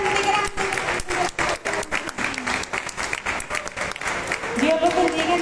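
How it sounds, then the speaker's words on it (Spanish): An audience at a book launch claps steadily and warmly for several seconds, a dense, continuous wash of applause with voices mixed in. "terminemos con un fuerte aplauso, pero para el alfarero"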